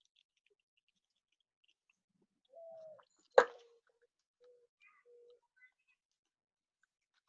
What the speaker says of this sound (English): Got a couple of some morning doves.